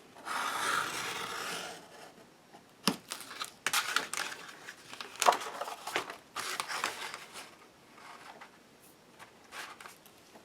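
Knife or cutter slicing watercolor paper into strips against a ruler, quiet scratchy rasping strokes in irregular bursts, some longer drags and some short clicks, close by.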